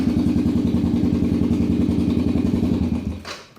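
A four-wheeler engine runs with a rapid, steady chugging putter close by, holding an even rhythm before cutting off near the end with a brief clatter.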